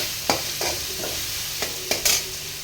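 Onion frying in a pan over lowered gas, a continuous hiss of sizzling oil broken by several sharp spatula scrapes and taps, close and clear, no voices.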